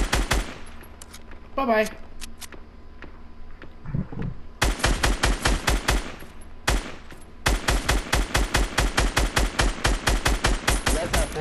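Rapid bursts of automatic gunfire from the video game Fortnite, loud, close, sharp shots in long rhythmic volleys separated by short gaps, with a brief spoken voice between bursts.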